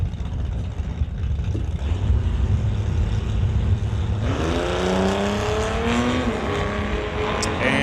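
An AMC Pacer and an SUV at an NHRA Summit ET drag race: a loud, continuous engine roar with rising revving tones as the cars launch and accelerate away, with crowd and track noise underneath.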